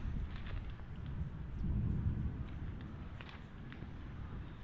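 Thunder from lightning rolls over a construction site as a steady low rumble that swells in the middle and then fades back to a continuous roar, with a few faint sharper sounds in the background.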